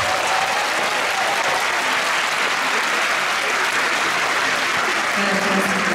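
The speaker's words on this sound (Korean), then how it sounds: "오늘 음악회의 시작을 아주 힘차게 열어준 한미연합군합대 장병들에게 다시 한번 아주 뜨거운 박수 부탁드리겠습니다." Concert audience gives warm, sustained applause to a combined Korean–US naval military band at a navy patriotic concert; dense, loud, even clapping fills the hall throughout.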